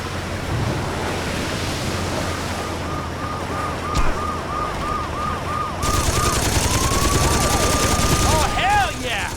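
Rapid machine gun fire from a mounted gun in the video game Saints Row 2, sustained and loud over a noisy, rushing driving background, with bursts continuing through most of the stretch.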